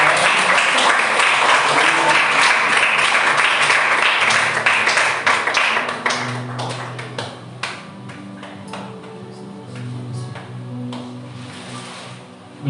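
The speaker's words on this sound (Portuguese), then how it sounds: "Que as palmas louvem ao Senhor." Church congregation clapping in praise at a Sunday family service: loud, dense applause for about six seconds, then thinning into scattered individual claps that fade out.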